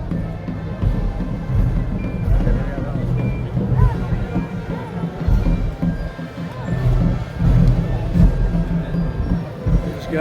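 A truck's engine rumbles at a slow Holy Week street procession, with faint reversing beeps and crowd noise around it, and voices talking throughout.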